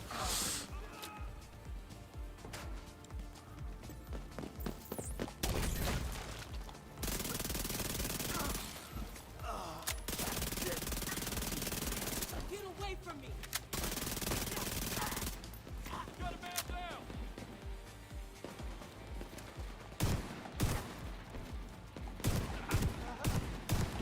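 SMG and shotgun fire in The Division 2 during a heroic PVE fight: dense, loud bursts of automatic shooting with heavy single blasts, some broken by short pauses, with voices talking over the combat.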